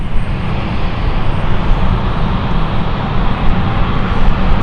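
Fixed-wing airliner arriving at London City Airport from Billund, Denmark, its loud, steady broadband engine roar sustained throughout, close by and alone with no voices.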